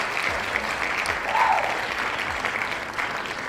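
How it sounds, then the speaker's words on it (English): Steady audience applause rolls on for about three and a half seconds at constant loudness, a continuous crackle of many hands clapping at once. "Round of applause for them."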